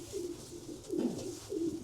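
Racing pigeons cooing close by, three low, throaty coos in a soft rhythmic sequence over a steady background hiss.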